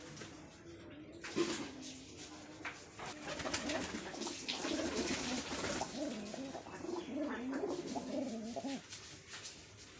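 Lahori pigeons, kept in pairs of black and red birds, coo repeatedly in soft, rolling, throaty phrases that overlap close by. A faint sliding or knocking noise occurs early on, and no one speaks.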